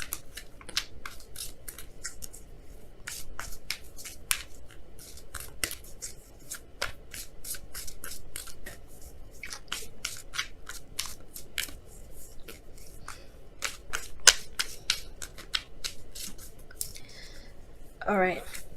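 Oracle cards being shuffled and pulled, heard as a steady run of crisp, close card snaps and riffles throughout, with a brief rustle near the end.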